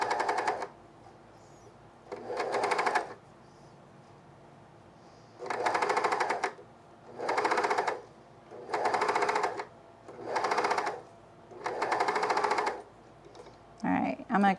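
A sewing machine stitches a fleece pullover in six rapid buzzing runs, each lasting about a second. Quiet pauses separate the runs, and handling noise comes at the end.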